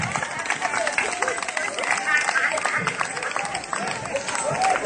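Concert audience applauding for prophet Joel Krasso at Elomoin: a dense, steady wash of clapping mixed with crowd noise and cheering, loud and continuous throughout.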